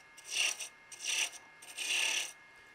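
A wooden Christmas ornament is turned on a lathe and shaped into a cone, with three rasping cutting passes, each about half a second to a second long, that stand close and fairly loud against a quiet background.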